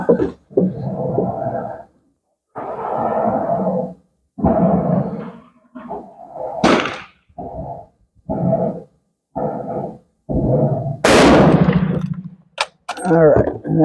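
A K31 Swiss rifle fires during target shooting, one sharp, loud, broadband crack that stands out from surrounding stretches of talk.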